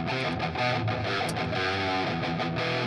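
A heavily distorted guitar tone from the Rocksmith 2014 game, set to the On the Way to Einor Distortion preset, rings out loud and sustained with a dense, fuzzy buzz and steady strummed chords.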